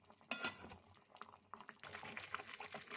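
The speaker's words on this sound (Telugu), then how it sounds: "సో ఇలా బాగా కుతకుతా ఉడుకుతూ ఉందండి." Tomato chutney bubbling vigorously in a pan, its popping, sputtering bursts irregular and fairly faint, swelling into a denser simmer in the second half.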